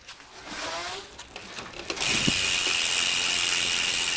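A MOSSO mountain bike's rear hub freewheel ratchets as the wheel coasts, a dense fast buzzing click that starts quietly and then turns loud and steady, heard up close with no talking.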